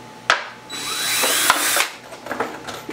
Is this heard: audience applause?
no